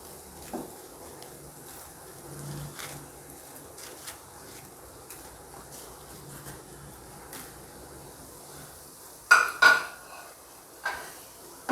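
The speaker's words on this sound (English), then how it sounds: "saute it nicely so that all the fingers are coated with the sauces" Veg fingers tossed in Schezwan sauce in a pan, with soft scraping and a few sharp clinks of a utensil against the pan, louder knocks near the end, over a low steady background.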